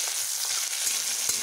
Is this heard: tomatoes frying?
yes